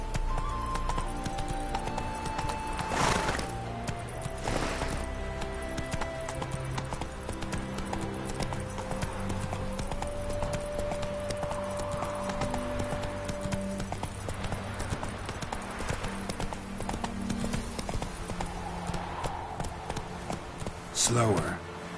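Horse hoofbeats clip-clop steadily at a gallop in The Witcher 3, close and continuous under game music, with occasional spoken voice over the rhythm.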